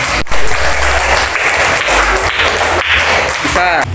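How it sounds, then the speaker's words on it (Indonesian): Hand clapping from a third-grade class during a Sundanese language lesson, brisk and continuous in a small room, with children's voices and talking over it. "tepuk tangan"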